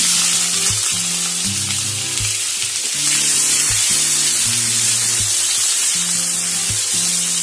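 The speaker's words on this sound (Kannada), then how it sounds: "ಇದೇ ಎಣ್ಣೆಯಲ್ಲಿ ಎರಡು ಮೀಡಿಯಂ ಸೈಜಿನ ಈರುಳ್ಳಿಯನ್ನು ಹಾಕೊಳ್ತೇನೆ" Two medium onions go into hot oil already used for frying, sizzling loudly and continuously with a bubbling crackle that swells slightly partway through, and no voices.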